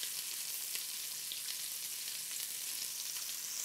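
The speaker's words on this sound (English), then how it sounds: "Gonna fry the rest of these up" Meatballs frying in a pan for spaghetti and meatballs, a steady, dense sizzle that holds evenly throughout with no voices over it.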